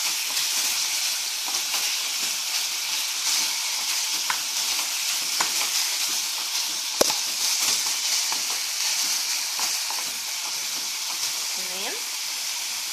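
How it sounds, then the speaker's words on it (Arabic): Meat and onions sizzle steadily in a pan for a traditional Egyptian baked tagine of orzo with veal, with a constant hiss broken by occasional scrapes and clinks of stirring. "هقلبهم مع بعض اسيبهم لغايه ما البصل ما يكبر خالص، يعني كده كاني بعمل اللحمه بالبصل"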